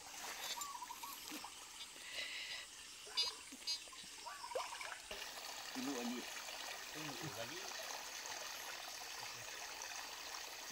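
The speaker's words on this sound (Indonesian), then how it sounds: "Jadi ini aliran anak sungai." A small stream trickles and splashes quietly at a site explored with a metal detector, faint flowing water with occasional rustling and handling noises, and some quiet talk mixed in.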